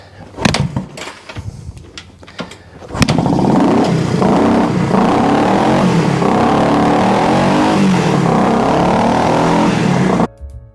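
A 1967 Honda CL 125 motorcycle with a freshly fueled carburetor: a few sputtering kicks and pops, then the engine catches and runs loud and steady with revving for several seconds before cutting off.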